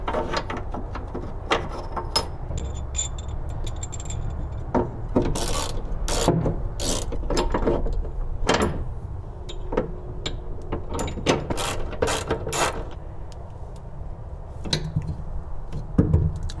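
Billet tie-down anchors are screwed onto Toyota Tacoma bed rails with a ratcheting hand tool, producing a series of close, sharp ratchet clicks in uneven bursts over a quiet background.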